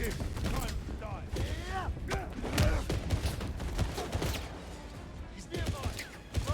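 Gunfire in the video game 007 First Light, bursts of shots and mechanical clatter running steadily underneath players talking over one another throughout.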